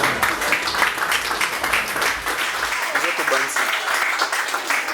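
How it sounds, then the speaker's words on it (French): Audience clapping at a live comedy show, a loud burst of applause with voices and crowd chatter mixed in, fading slightly toward the end. "Applaudissez, applaudissez."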